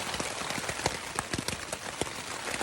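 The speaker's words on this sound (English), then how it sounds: "It has been raining for at least 5 hours now, maybe 6." Steady rain falling outdoors around a home on the Appalachian Trail, dense and close, with sharp drips and splatters pattering on a surface throughout.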